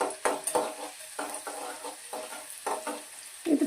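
Paneer gravy masala frying in a pan, with soft sizzling and intermittent scrapes and clinks of a spoon stirring against the pan in an uneven rhythm.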